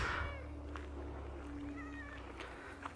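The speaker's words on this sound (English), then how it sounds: "And I have kitties underfoot." A faint cat meow or two over quiet room background noise, soft and brief, with no talking.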